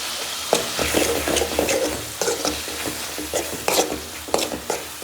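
Dal sambar fries and bubbles in a pan with a continuous crackling sizzle. Irregular stirring scrapes and clicks sit close by throughout, and nobody speaks.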